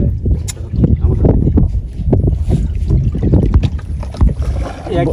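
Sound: fishing boat moving on water

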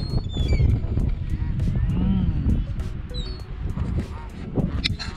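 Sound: wild geese honking

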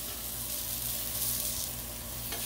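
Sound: smashburgers sizzling on a Blackstone griddle

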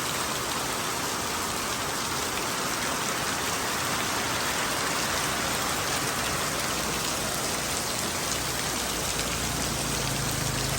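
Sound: heavy rain in a storm

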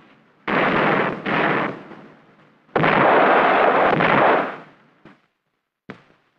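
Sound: 20-millimeter cannon firing

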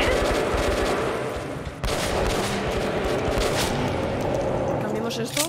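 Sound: shotgun fire in video game Metro Last Light Redux

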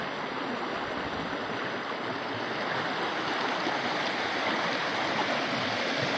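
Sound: Nura river flowing

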